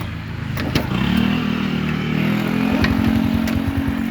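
A Honda Wave motorcycle engine cranks and fires up, then settles into a steady, loud, close idle with a regular chugging rhythm.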